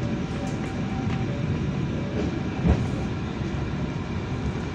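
The Pasundan passenger train stands at Rancaekek station, a steady low rumble and hum of the locomotive and carriages filling the air, with one brief louder thump midway.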